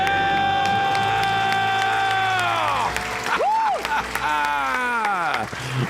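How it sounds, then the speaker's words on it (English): A studio audience on a personal-finance call-in show cheers and shouts after a couple's debt-free scream, loud whooping and applause with some voices over the crowd. "Let's hear a debt-free scream."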